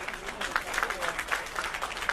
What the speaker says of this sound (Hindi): एक बार जोरदार तालियां बजाइए अपने लिए